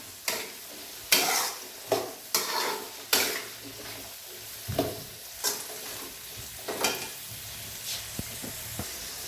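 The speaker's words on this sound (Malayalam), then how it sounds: "ഇളക്കി കൊടുക്കാം." Beef roast being stirred in a hot pan with salt, repeated scraping strokes of a spoon against the pan over a continuous sizzle, close and fairly loud.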